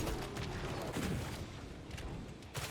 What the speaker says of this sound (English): I'm gonna throw a grenade in there.